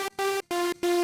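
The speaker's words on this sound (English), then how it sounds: "turn it on to the noise Unison mode" Ableton Wavetable synth playing a saw patch with noise Unison mode, four short sustained harmonic-rich notes with brief silent gaps between them, bright and buzzy, alone with no talking.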